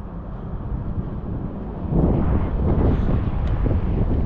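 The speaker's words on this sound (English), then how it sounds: "It's a little bit blowy where I am" Strong wind buffets the microphone near Southampton docks, a steady low roar that swells louder partway through, with no voices.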